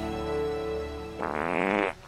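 A loud fart sounds on its own: a steady droning tone first, then a buzzing, sputtering burst of about a second that stops abruptly.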